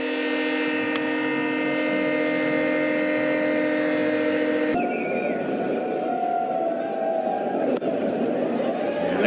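A train horn blares at a ballpark in a long, loud, steady multi-tone blast that shifts pitch midway and keeps sounding alone.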